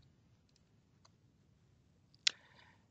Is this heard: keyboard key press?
yes